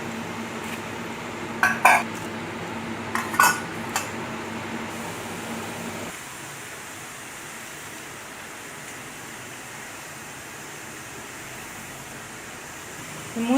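Murukku, a South Indian rice-flour snack made with idli rice, frying in hot oil, giving a steady broadband bubbling hiss with a few metallic utensil clinks early on, then a quieter continuous fizz.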